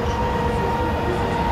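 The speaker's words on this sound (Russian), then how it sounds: "как отправляется на вагоны и потихоньку трогается электровоз" An electric locomotive slowly pulls a long-distance passenger train out of a station on the Chita to Moscow route, a steady close rumble of wheels and cars with faint tonal hum, continuous throughout.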